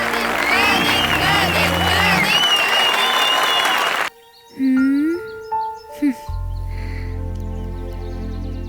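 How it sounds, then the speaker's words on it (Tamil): Students in a Tamil film scene applaud a classmate's first-place win, with loud, dense clapping and crowd noise for about four seconds before it cuts off and gives way to electronic tones. "இன்னும் பலத்த கரகோஷத்தை எழுப்பி உற்சாகப்படுத்துங்கள் மாணவர்களே"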